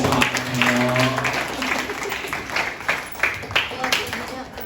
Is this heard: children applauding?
yes